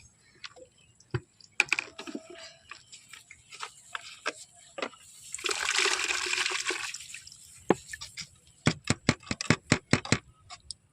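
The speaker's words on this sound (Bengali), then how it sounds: "তো আমি তোমাদের ঢেলে দেখাচ্ছি কতটা মাছ" Water and caught fish are tipped from a plastic bottle into a bucket, a brief gushing pour in the middle surrounded by sharp knocks, taps and clicks of handling, all close and fairly quiet.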